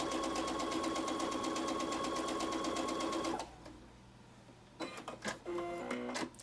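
A sewing machine stitches a Dresden Plate quilt block, running in a fast steady whir for several seconds, then stops; soft handling and tapping of fabric follow, close by and without speech.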